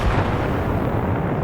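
A controlled detonation of an explosive charge during a bomb disposal course in the video game ArmA, heard as a single deep, rumbling blast roll that fills the whole moment, loud and low with no voices.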